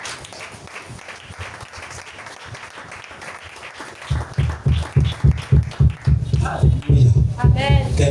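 Church congregation clapping in rhythm, faint scattered claps at first that give way to loud, regular, beat-driven hand claps, with voices talking and calling out underneath.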